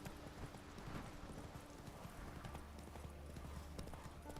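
Horse hooves clip-clop steadily at a walk on a Skellige path in Witcher 3, a brisk rhythmic patter of strikes with a low hum joining partway through.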